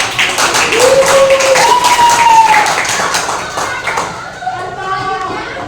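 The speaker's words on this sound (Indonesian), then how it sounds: "Beri tepuk tangan untuk kelompok." Students in a classroom clap for a presenting group, a brief burst of hand claps that fades out. Voices talk over it.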